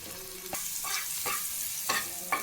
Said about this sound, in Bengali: রসুনটা আমার অর্ধেক ভাজা হয়ে গেছে